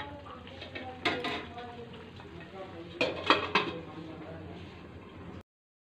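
A lid goes onto a cooking pot with a couple of clattering metallic clanks, one early and a cluster later, over low kitchen background noise, with a voice speaking faintly beneath.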